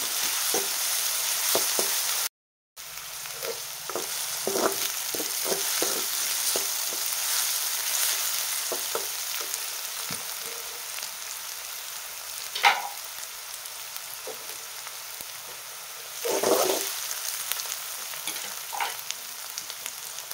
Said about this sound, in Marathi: आपल्याला कांदा छान परतू द्यायचा आहे.